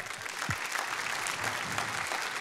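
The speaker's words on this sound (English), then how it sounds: "Let's give Matt a round of applause." Applause from a church audience greeting a guest brought on stage, a dense, steady wash of clapping from many people, moderately loud and even throughout, with a faint low voice briefly beneath it.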